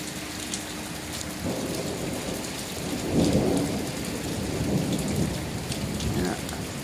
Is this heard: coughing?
no